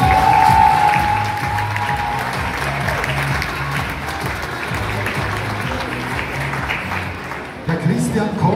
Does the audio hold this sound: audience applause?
yes